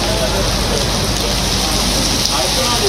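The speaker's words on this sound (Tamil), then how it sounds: "சுமார் 20 நிமிடங்களுக்கு மிதமான மழை பெய்ததால் குளிர்ச்சியான வானிலை நிலவியது" Moderate rain falling steadily in Chennai, a dense continuous hiss of drops with no clear breaks, with a voice talking over it.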